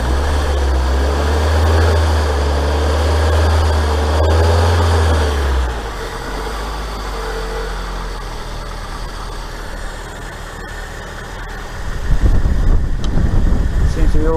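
A Fiat Punto engine after a rocker cover gasket replacement, idling with a deep steady thrum, settling lower midway, then rising in a short rev near the end, with a voice speaking over it.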